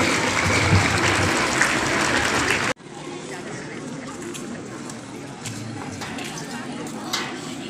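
Audience at a school Christmas gathering claps to welcome class 12 students, a dense, loud burst of applause that cuts off abruptly partway through, leaving quieter room noise and murmuring voices.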